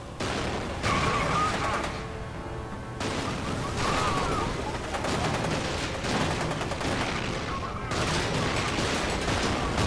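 Dense video-game gunfire from F.E.A.R. 2, with sustained rapid bursts of shots and heavy booms filling the scene, broken by brief lulls, loud and continuous throughout.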